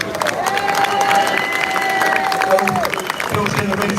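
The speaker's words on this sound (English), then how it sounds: "Please give this man a round of applause." A crowd at a live London event applauds and cheers, with a continuous wash of clapping mixed with whoops and raised voices.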